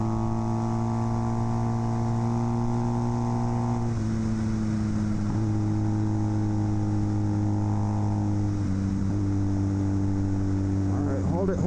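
A Kawasaki KZ400 tracker motorcycle engine drones steadily at speed, holding a loud, even note that briefly dips and rises as the revs shift, with no talking over it.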